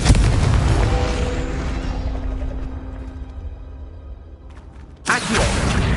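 A Confringo fire spell explodes in the Hogwarts Legacy video game: a loud booming blast that decays into a fading rumble over several seconds, then a second sharp burst near the end.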